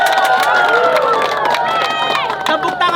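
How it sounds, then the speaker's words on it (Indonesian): Crowd at a communal cooking event cheering and clapping, with excited overlapping voices and whoops layered over sharp claps, loud and close. "Kita tepuk tangan dong"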